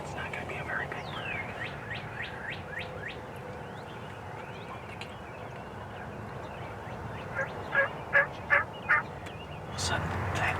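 Gobbles from a wild turkey tom out on a hillside during a hunt, first a burst of rattling calls early on, then a rapid series of distinct loud gobbles toward the end, all over steady outdoor background noise.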